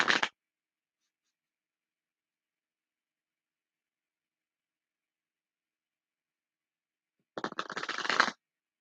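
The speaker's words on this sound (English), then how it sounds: "I'm going to shuffle two more times and we'll get some oracle cards" Two short bursts of papery oracle card shuffling, one brief at the start and a longer riffle near the end, separated by silence.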